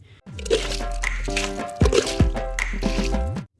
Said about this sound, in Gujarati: અહીંયાથી પાણી નીકળ્યા જ કરે છે